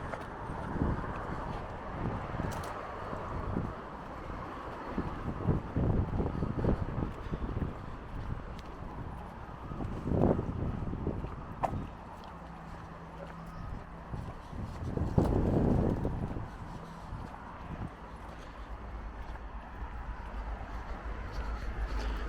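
Strong wind buffets the microphone on the Norfolk Coast Path near Hopton-on-Sea, a continuous rushing roar with heavier gusts swelling now and then.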